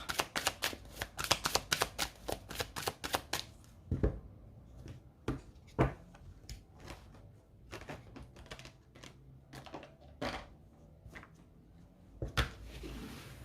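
Tarot cards being shuffled, a fast run of crisp riffling snaps at the start followed by scattered separate card slaps and flicks, close and fairly quiet, with no talking.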